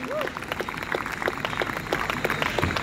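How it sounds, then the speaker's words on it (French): An audience at a cultural festival claps after a speech, with scattered, moderately loud hand claps that build toward the end and a voice briefly over them. "On l'accompagne avec des applaudissements."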